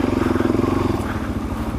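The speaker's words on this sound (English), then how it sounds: "Oh, it's a couple of four-wheelers." Four-wheeler ATVs pass close by on a mountain trail between Caribou Flats and Eldora Mountain, their engines putting out a loud, throbbing rumble that pulses fast at first and then smooths out as they move on.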